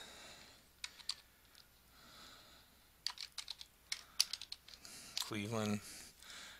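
Fingers typing on a computer keyboard, scattered quick clicks at first, then a denser burst of keystrokes; near and fairly quiet, with a brief voice near the end.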